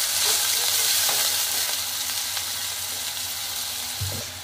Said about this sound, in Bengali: দিয়ে একটু হালকা ভেজে দিয়ে দিচ্ছি হলুদের গুঁড়া, মরিচের গুঁড়া